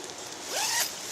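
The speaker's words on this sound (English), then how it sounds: "Here's your entrance to the tent. You have a top zipper" A zipper on the door of a one-person bivy tent is pulled open in a single smooth, close rasping stroke lasting about half a second, with no talking.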